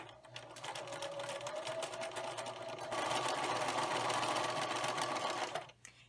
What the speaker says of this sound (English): line up the raw edge right with the edge of the foot, and then you begin to sew the strips together.